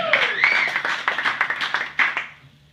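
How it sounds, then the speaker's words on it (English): A comedy club audience claps in a burst of distinct, fairly close hand claps that fall into a loose rhythm and fade out toward the end, with a brief voice sounding at the start. "Clap it up for me."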